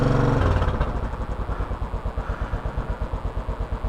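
A 2014 Royal Enfield Continental GT 535 motorcycle engine catches with a loud burst, then settles into a steady, thumping single-cylinder idle with even pulses, close by and with no one talking.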